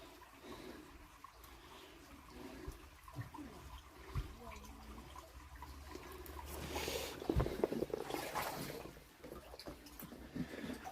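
Water flows steadily out of a flooded mine shaft in a Tamar Valley mine, a continuous rushing and gurgling close by that swells louder partway through.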